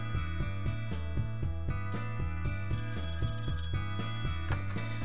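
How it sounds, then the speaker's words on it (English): An old-fashioned telephone bell rings in a steady, repeating pattern of loud, close trills, with no voices over it. "as if on cue, the telephone rang."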